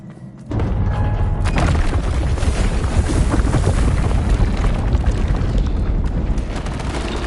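The Revelio spell in Hogwarts Legacy bursts in with a sudden deep boom, then rolls on as a dense, loud rumbling wash that fades slowly.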